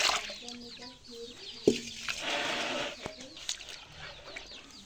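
A hen with her many chicks on a goat farm, giving soft clucks and thin peeps scattered through the clip over a low farmyard background with a sharp knock midway.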